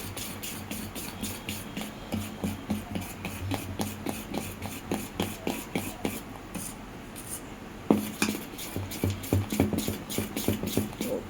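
Appe batter with grated carrot and chopped onion being beaten in a bowl, heard as a steady, rhythmic scraping and whisking that runs evenly through the whole stretch at moderate volume.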